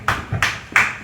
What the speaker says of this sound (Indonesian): Tepuk tangan untuk 3 narasumber kita.